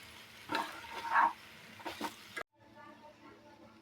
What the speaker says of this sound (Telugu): కారం వేసుకొని కలుపుకోవాలి కలుపుకుంటున్నాం